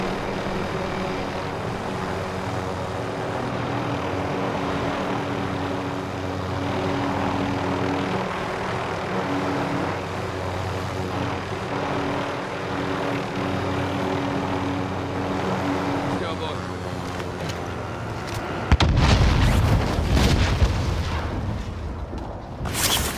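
In the Warzone video game, a helicopter's engine drones steadily before the craft crashes into a car, ending in a loud, heavy explosion near the end.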